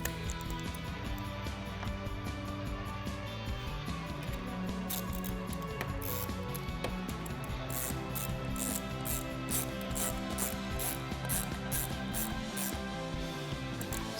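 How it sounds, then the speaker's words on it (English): A ratchet with an 8mm socket tightens the intake hose clamps on a 2012-2018 Jeep Wrangler JK, giving off steady mechanical clicking that grows into rapid, regular ticks in the second half over a constant background hum. "we have to tighten down the clamps using our 8mm socket"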